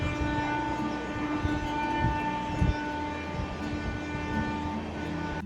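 A Sealdah–Varanasi Amrit Bharat Express rolls steadily along the rails near Durgapur, a continuous rumbling drone with a low hum and a couple of soft clunks from the wheels.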